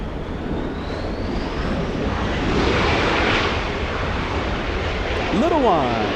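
Airliner on final approach into LAX, a broad engine rumble rising and swelling over several seconds, with a rising whine near the end; a voice talks over part of it.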